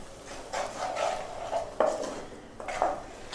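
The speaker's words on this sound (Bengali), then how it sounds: "আমি এখন এটাকে ভালোভাবে কষাবো" Snakehead fish and cauliflower, salted, being stirred and fried in a pan with a utensil, giving several scraping clinks and rubs against the metal in an irregular rhythm, moderately close and fairly quiet with no talking.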